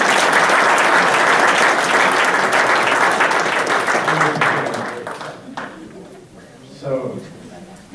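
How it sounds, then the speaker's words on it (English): A crowd at a community workshop applauds loudly for several seconds, the clapping thinning and fading toward the end, with a few voices murmuring as it dies down. "Let's give Matt a round of applause."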